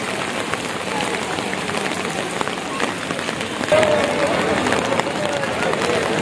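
Steady heavy rain patters across an open courtyard at the Hazrat Shah Jalal shrine in Sylhet, a dense hiss that continues throughout while someone speaks over it.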